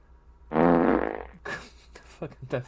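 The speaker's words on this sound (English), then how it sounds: "That fart noise is so stupid." A loud, drawn-out buzzing fart sound effect blares during a live Mets versus Phillies baseball watch-along, followed by short sputtering bursts and bits of talk.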